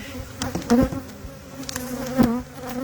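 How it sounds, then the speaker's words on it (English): Honey bees buzz steadily around a hive, a dense droning hum with individual insects swelling louder as they pass close by, no voices over it. "I wouldn't have this many bees"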